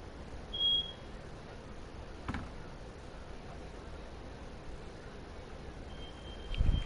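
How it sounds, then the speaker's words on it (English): A single high electronic beep sounds briefly early on over quiet background hiss, followed later by a fainter tone and a few soft knocks. "I'm sorry if that beeping is loud"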